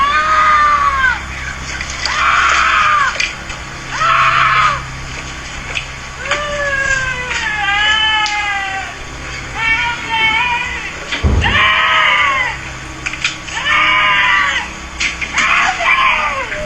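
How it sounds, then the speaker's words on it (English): A woman screams for help on a street, with repeated loud wailing cries in a steady rhythm over roughly seventeen seconds, close and dominant, with a dull thud partway through. "A woman screams out for help as she seemingly walks calmly down the street"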